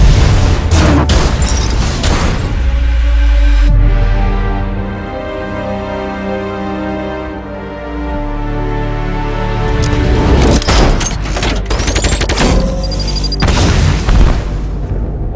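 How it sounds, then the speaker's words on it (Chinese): Several explosions go off in an action film. Heavy booming blasts open the scene, deep rumbling and crackling debris fill the middle, and a second cluster of loud, sharp detonations follows near the end. "除咗呢个，仲有三个一齐爆炸"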